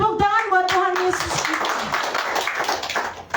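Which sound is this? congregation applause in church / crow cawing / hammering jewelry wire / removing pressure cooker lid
congregation applause in church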